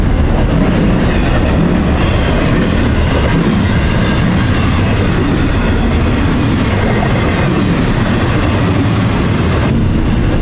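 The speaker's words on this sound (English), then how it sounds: "Train come through there." A train rumbles steadily past close by, a loud continuous roar of wheels and rail cars with clickety-clack texture throughout, heard near a workshop where an engine block is being assembled; no voices.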